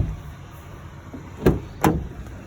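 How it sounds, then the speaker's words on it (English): A car door on a rideshare vehicle is opened during a mechanic's inspection, giving two distinct nearby clunks about half a second apart over quiet background. "We're just going to open this door too,"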